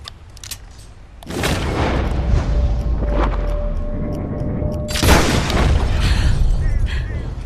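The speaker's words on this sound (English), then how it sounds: "They wanted me to use the double action revolver, so I haven't used that gun in a while" Double-action revolver fire in Red Dead Redemption 2, with two loud, booming shots a few seconds apart, each followed by a long ringing tail over game ambience.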